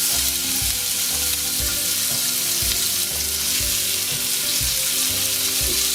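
Strips of lamb frying in hot olive oil, a dense continuous sizzle close up, with repeated low knocks of stirring in the pan at a steady pace.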